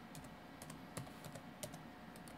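A keyboard typed on while searching Google for an eMachines D620 laptop model, giving a quick, uneven series of crisp key clicks, near and quiet, with no speech.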